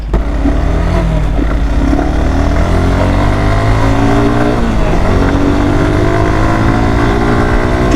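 Suzuki Gixxer 155 motorcycle accelerating hard along an empty road, its engine note climbing steadily through the gears with a continuous loud drone and rising whine, no voices.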